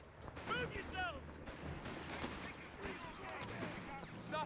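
Mortar and gunfire in the World War II strategy game Company of Heroes 3 thud and crackle steadily through a dense battle din, while soldiers' voices shout over the top throughout.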